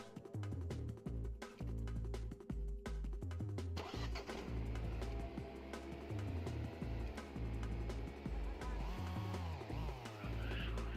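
A vehicle engine in the Star Wars Battlefront 2 video game revs repeatedly, rising and falling in loud pulses over a steady rumble, then settles into a sustained drone with shifting pitch.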